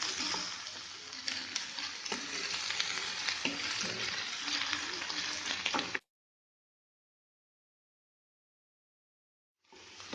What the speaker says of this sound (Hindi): इसको एक साथ भून लेते हैं प्याज के साथ